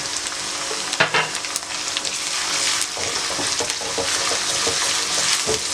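Onions browned in a pan with garlic paste just added, frying with a steady close sizzle and occasional stirring clatter, no talking.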